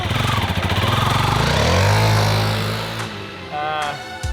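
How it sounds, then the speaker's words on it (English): A motorcycle peeling out, its engine roaring loud and close with a rising rev and a pulsing rumble that fades out after a few seconds, then a brief return of engine noise. "this is just a shot of Steven just peeling out."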